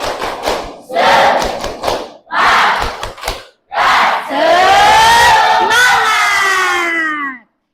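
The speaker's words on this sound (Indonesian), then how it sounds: "Tepuk semangat." A secondary-school class performs a rhythmic spirit clap chant, loud bursts of unison clapping and shouted syllables in several groups, ending in a long drawn-out collective cry.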